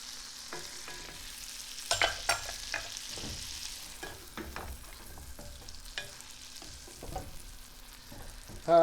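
Food sizzling and being stirred in a frying pan, with scraping, clattering spatula strikes and a louder clatter at the very end, steady close frying underneath and no talk.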